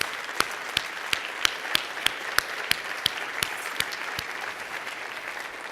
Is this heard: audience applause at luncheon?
yes